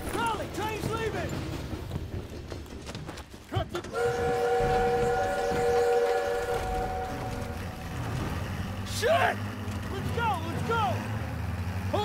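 A train departs in the video game Call of Duty: WWII, with rumbling wheels and a sustained layered whistle blast in the middle, mixed under battle noise and shouted voices.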